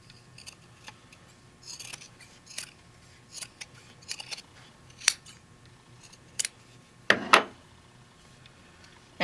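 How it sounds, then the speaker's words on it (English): Scissors snip through fabric at the corners of an embroidered mug wrap, a handful of sharp, close cuts spaced over several seconds with quiet pauses between, the last few strokes louder and longer. "Again, cut on the corners."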